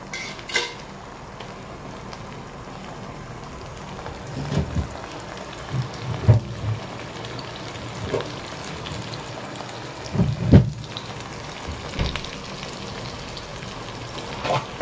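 Masala with bone-in chicken frying and roasting in a little oil, a soft steady sizzle with scattered clinks and scrapes of a utensil against the pan, moderately close.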